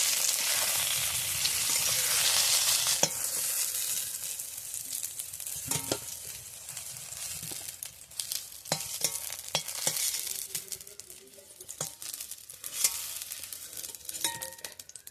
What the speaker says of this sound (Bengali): পটলটাকে আমি হালকা লাল লাল করে ভেজে নিয়েছি